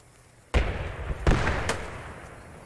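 Gunfire in the video game Post Scriptum: two loud, heavy shots a little under a second apart, then a fainter third crack, each booming and fading with a long tail.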